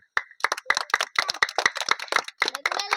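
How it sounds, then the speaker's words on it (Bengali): Children and an audience clap in a brisk, uneven burst of handclaps at a contest result, close and fairly loud, with short gaps between clusters. "সবাই জোরে হাততালি"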